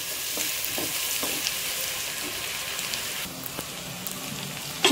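Coconut and mutton chops frying in a pan, a steady close hiss of sizzling with occasional soft scraping and stirring noises, no voices.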